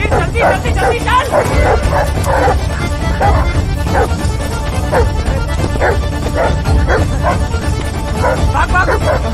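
Several dogs chasing people along a road in a Hindi film scene, with a dense, continuous run of overlapping barks, yips and whimpers, loud and close, mixed with frantic shouting voices throughout.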